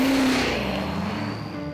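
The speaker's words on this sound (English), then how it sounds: "the race vehicles are at wide open throttle for minutes, not seconds" A race car runs at wide open throttle on salt flats, a loud sustained engine drone that fades gradually as it pulls away into the distance.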